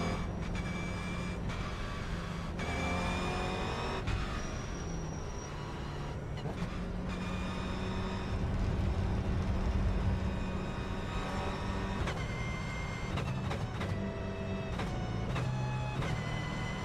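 A Toyota GR86 Cup car at Watkins Glen in a racing video game revs and climbs through the gears, its engine note rising and dropping in repeated shifts, steady and continuous with a droning rumble beneath.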